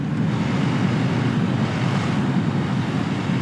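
Strong wind blows outdoors and buffets the microphone in a continuous, loud, rushing roar that stays steady throughout without any voices.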